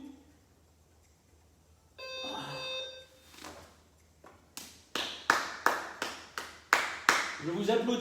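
Fitness instructor clapping after a core workout set, a beeping timer tone first, then a run of about eight sharp, close handclaps in steady rhythm, with talking at the end.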